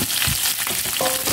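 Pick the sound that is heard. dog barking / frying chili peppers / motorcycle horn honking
frying chili peppers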